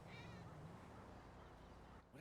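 A cat gives a short meow at the start, close but soft, followed by a low steady background with a faint voice-like murmur.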